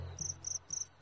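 A cricket chirping in three short, evenly spaced high trills within a second, clear and close over a faint low hum.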